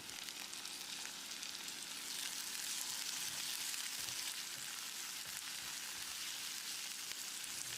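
Chopped onions fry steadily in a pan, with a continuous bright sizzle for a prawn fry, heard up close with no talking.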